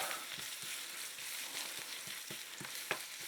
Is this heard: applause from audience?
no